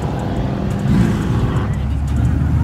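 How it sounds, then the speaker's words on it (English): A Honda NSX pulls away at a busy car meet, its engine a low rumble that swells slightly as it leaves, mixed with crowd chatter and nearby voices. "Look at the NSX leaving."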